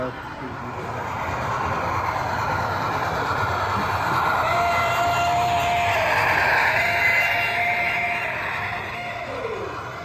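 Model trains rumble along a layout at a railroad hobby show in a hall. A steady, rolling wheel noise swells and fades over ten seconds, with crowd chatter and voices talking underneath.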